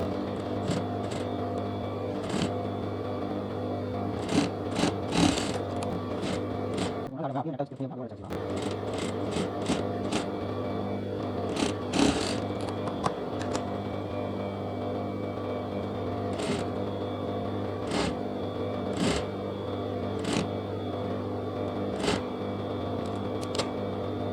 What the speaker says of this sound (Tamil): இது வந்து நான் மேலே தான் தையல் அடிக்கிறேன்